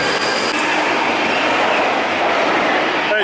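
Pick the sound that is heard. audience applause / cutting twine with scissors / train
train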